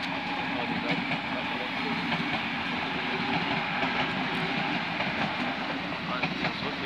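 A long S-Bahn commuter train rolls past at Riem station in Munich, a steady loud rumble of wheels with faint clickety-clack, continuous throughout with no pauses.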